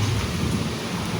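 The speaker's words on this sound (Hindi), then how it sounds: "ओहो बारिश भी हो रही है" Steady heavy rain hisses with a low thunder rumble underneath, loud and continuous.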